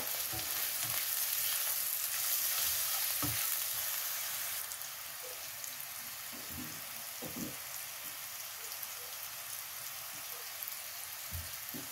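Mushrooms frying in a pan with salt and pepper, a soft steady sizzle with occasional stirring clinks, louder for the first few seconds then quieter and sparser.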